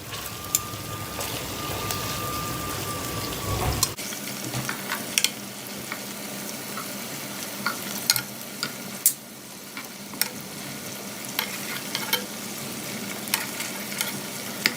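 Chicken wings sizzle and crackle steadily in a hot pan, a constant frying hiss dotted with sharp pops and spatters.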